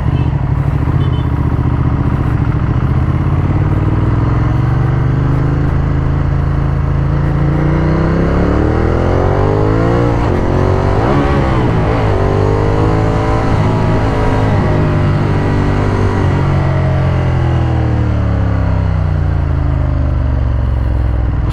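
A 2015 Ducati Monster 1200S with a 145 HP engine runs loud and close, holding a low steady drone before its pitch sweeps up and falls back in a brief rev, then settles again.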